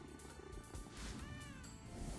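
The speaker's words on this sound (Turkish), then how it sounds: "seslere bakar mısın kedilerdeki?" Cartoonish cat sounds from a slot video game, with meows and purr-like tones over busy game music and effects, steady and fairly loud, no talking.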